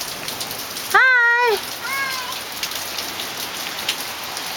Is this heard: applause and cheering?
no